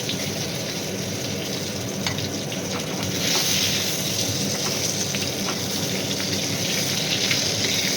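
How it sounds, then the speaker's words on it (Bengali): Slices of pointed gourd fry in oil in a pan, giving a dense, steady crackling sizzle like light rain that grows a little louder partway through as they are turned, heard close with no talking. "পটলগুলো উল্টে দিই, পটল ভাজাটা না আমাদের সবাই খুব ভালোবাসে।"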